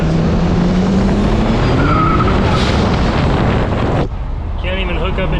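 Four-wheel-drive truck running in two-wheel drive, its tires spinning loose and squealing as the turbo boost comes on, with a loud engine roar and wind noise that cuts off abruptly near the end.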